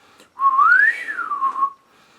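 A person whistles one clear, close note that glides up in pitch, holds, then slides back down, lasting just over a second with no one talking.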